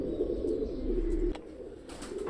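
A Royal Teddy pigeon coos in a low, steady rolling murmur close by, continuing for about a second before softening, with faint background noise.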